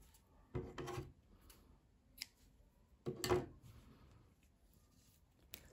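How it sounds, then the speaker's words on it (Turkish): Scissors snip through knitting yarn after a finished collar, two quiet close cuts with a small click between them in an otherwise hushed room. "İpliği kesiyorum"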